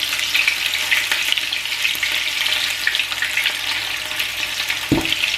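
Meatballs fry in hot oil in a pan, giving a steady, dense sizzle that carries at an even level throughout, with a brief low clunk near the end as the pan is tilted.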